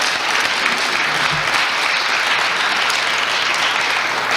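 Audience applause after speakers at an evening event on the criminal justice system, a steady, dense wash of clapping from a crowd that holds at even loudness throughout with no talk over it.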